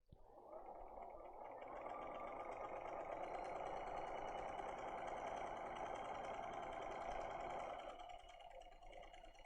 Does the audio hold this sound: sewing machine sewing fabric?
yes